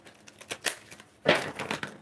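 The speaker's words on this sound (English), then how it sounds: "Shuffling them up." Tarot cards being shuffled by hand make soft, papery riffling and flicking sounds up close, in two short bursts with a brief pause between them and no talking.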